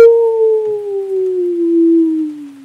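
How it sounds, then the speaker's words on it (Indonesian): A single long wolf howl, loud and close, with a clear sustained tone that slowly falls in pitch over nearly three seconds, heard alone without talk. "Melonglong serigala itu"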